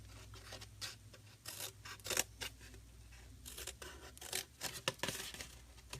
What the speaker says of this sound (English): these tabs, I'm going to come in here and cut up at an angle, just cut out a little wedge from those